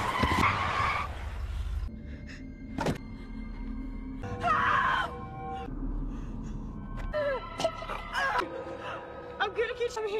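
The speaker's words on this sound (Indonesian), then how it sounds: "Ia menabrak seseorang yang sedang melintas di jalan itu." Car skidding before hitting a pedestrian in the 2007 film Wrong Turn 2: Dead End: a sharp tyre screech at the start, followed by scattered impacts and voices.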